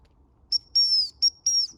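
Four sharp dog-training hump whistle blasts: two short toots alternating with two longer, drawn-out ones, loud and clear against a quiet background.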